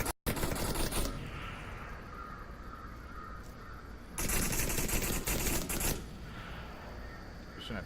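Rapid automatic gunfire from the VR shooter game Onward, with two loud sustained bursts of rattling shots over a constant background of quieter battle noise, with commentators talking over it.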